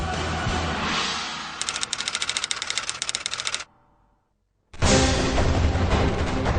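Rapid bursts of automatic gunfire in a war setting, loud and sharp, run for several seconds, cut to a brief silence, then return as a dense, continuous roar of firing.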